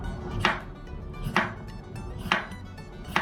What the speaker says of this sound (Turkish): Diğer patateslerimizi de doğruyorum.